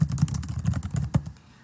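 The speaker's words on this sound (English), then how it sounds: "So the first thing I'm going to do is type in some text." Rapid clicking keystrokes on a computer keyboard as text is typed into a discussion comment, a steady close patter of taps that trails off near the end.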